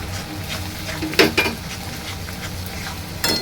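Salt, cumin powder, coriander powder, Kashmiri chilli powder and turmeric fry in hot oil in a pan for a Bengali fish curry, a steady sizzle broken by a few sharp clinks of a spoon stirring against the metal.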